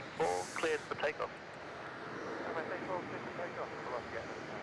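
An airliner taking off at Melbourne Airport rumbles faintly and steadily in the distance while a radio voice gives clearance at the start.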